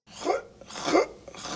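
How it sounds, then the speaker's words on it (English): A person clears their throat in three short, rough bursts that rise and fall in quick succession, close and moderately loud with no talking. "I was just clearing my throat."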